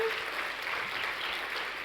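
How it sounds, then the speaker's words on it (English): A conference keynote audience gives a round of applause, steady dense clapping at moderate distance filling the whole short stretch. "Round of applause."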